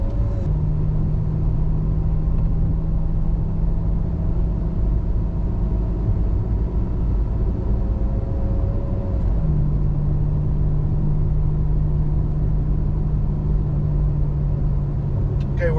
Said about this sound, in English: We're going to go for a really slow cruise right now so you can hear how quiet this is on a smooth, low mile per hour road.